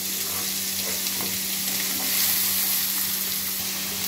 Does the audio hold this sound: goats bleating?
no